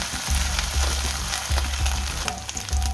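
Ginger-garlic paste fries with onions in a pan, giving a steady close sizzle with soft bubbling and occasional low thumps of stirring.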